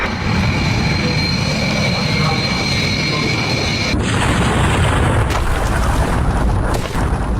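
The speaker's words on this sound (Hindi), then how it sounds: "विमान जैसे ही टेक ऑफ करता है रनवे से आगे बढ़ते ही फौरन देखिए क्रैश हुआ, इमारत से टकराया" An animated passenger plane crashes into a building just after takeoff from a runway, heard as a loud continuous roaring rumble that shifts abruptly into a harsher crashing burst midway, with no talking.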